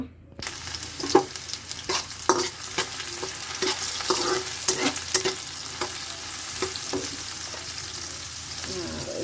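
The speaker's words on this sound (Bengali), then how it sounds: "এখন হচ্ছে তেল গরম হয়ে গেছে পেঁয়াজ দিয়ে দিব" Onions hit hot oil in a pan and fry with a steady, loud sizzle, broken by sharp scraping clicks as they are stirred.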